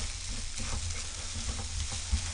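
Cooked rice and vegetables stir-frying in a pan over medium heat for Chinese-style egg fried rice, giving a continuous close sizzle with soft scraping stir strokes and a low rumble, and no one talking.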